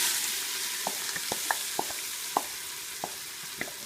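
Onions fry in a hot pan with a loud, steady hiss, punctuated by scattered small sharp pops and ticks every half second or so.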